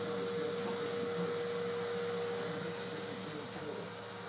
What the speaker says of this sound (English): Sorry if you can hear the vacuum cleaner in the background.